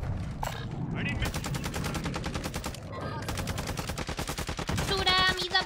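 Rapid automatic gunfire in Call of Duty Warzone rattles in long, dense bursts of sharp evenly spaced shots, loud and close, with a short pause midway and overlapping game sounds and voices.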